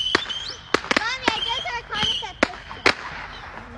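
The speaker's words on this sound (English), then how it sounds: "These are just fireworks." Fireworks go off in a series of sharp, separate cracks and pops spread over several seconds, with people talking and reacting nearby between the bursts.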